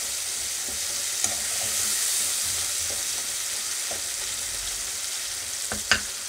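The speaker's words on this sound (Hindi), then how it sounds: "टमाटर गल चुके हैं, इस तरीके से मैश कर देंगे।" Softened tomatoes being mashed while they cook in a pan for sarson ka saag, giving a steady low sizzle with soft stirring scrapes and a couple of sharper utensil knocks near the end.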